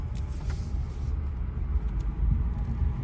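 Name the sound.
quiet Chevy Bolt electric car rolling down the road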